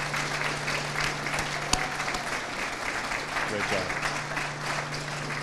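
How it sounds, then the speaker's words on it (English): Audience applause for youth commissioners honored as young unsung heroes at a Galt community event, a steady wash of clapping from many hands throughout, with a brief spoken word of praise over it. "Let's give you a round of applause for all of your efforts."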